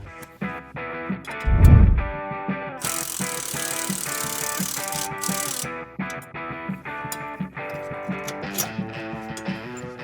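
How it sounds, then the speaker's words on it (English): An impact wrench with an 18mm socket works on the front shock bolts of a Polaris XPEDITION, giving a harsh mechanical burst of about three seconds over background music. "Now with an impact, an 18mm socket and an 18mm wrench, we're going to remove the front shocks."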